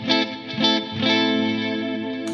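A clean electric guitar on the neck pickup, played through a Fender Deluxe Reverb amp: three quick strummed chords ring out, then one chord sustains bright and close.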